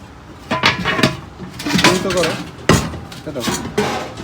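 A lidded cookware pot handled in an old ship's kitchen, giving a series of clanks, knocks and metallic clinks at irregular intervals, close up, under someone talking.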